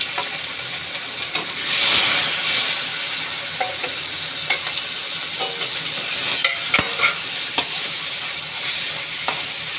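Salted, turmeric-rubbed fish fries in hot oil in a wok, giving a continuous close sizzle and hiss with occasional crackles and pops, no speech.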